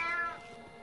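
A single short cat meow used as a sound effect in a French audiobook of the Bremen Town Musicians fairy tale, clear and close, fading quickly with no narration over it.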